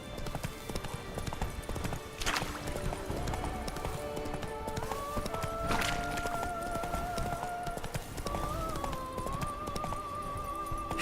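Geralt's horse Roach gallops in the Witcher 3 video game, a steady run of hoof clip-clops heard close and continuous, while music plays underneath and a few brief tonal chimes sound.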